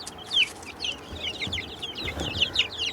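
A flock of black and white naked neck hens clucks continuously, many short calls overlapping near the listener, with a few soft low knocks in the background and no voices.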